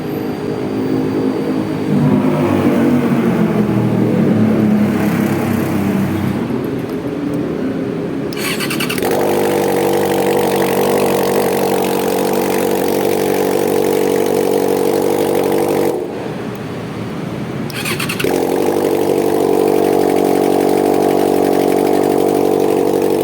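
An unmuffled Yamaha XJ600 motorcycle engine with no exhaust fitted, starting and running loud and close with a steady buzzing drone, cutting out briefly twice before firing up again.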